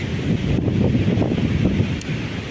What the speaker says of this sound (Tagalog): So sobrang lakas ng hangin.